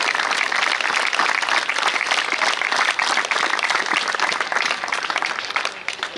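Teams at a blind cricket stadium event clap hard, a thick, loud, sustained roar of applause that holds steady for about six seconds before easing slightly at the end.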